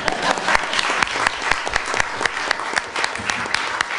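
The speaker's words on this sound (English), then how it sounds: "I would ask the audience to join me in a round of applause for our 9 school directors" Audience members at a school board meeting applaud the district's nine school directors, a lively, somewhat uneven clapping with a few louder individual claps standing out near the listener throughout.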